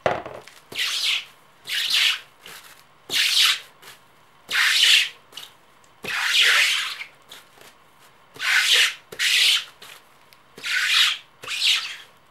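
Merino wool rovings rubbed back and forth on bubble wrap to form dreads, a harsh scratchy rasping heard close in about ten regular strokes separated by short pauses.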